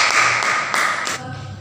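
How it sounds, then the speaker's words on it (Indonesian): A classroom of students clapping for themselves at the end of a school lesson, a short burst of brisk applause close by that stops after about a second, leaving faint room tone. "Beri tepuk tangan dong buat kita semua."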